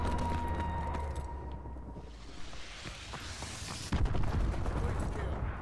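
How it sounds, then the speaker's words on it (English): Missile strikes hit in Call of Duty Advanced Warfare multiplayer, with rapid gunfire crackling before a rising whoosh and a heavy impact boom, followed by continued rumbling battle noise. "Friendly missile strikes inbound."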